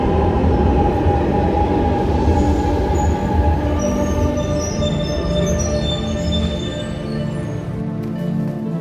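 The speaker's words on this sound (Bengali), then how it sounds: "এই যে এটা ট্রেন, এই ট্রেনে করে এখন চলে যাব বাসায়।" A train at a station in Milan, Italy rumbles steadily and loudly throughout, with a constant low mechanical roar and faint high whines and squeals, no voices.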